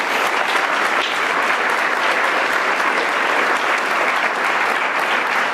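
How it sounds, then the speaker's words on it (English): Steady, dense applause from a community gathering audience, sustained evenly for several seconds with no break, loud and close. "So we got to applaud that."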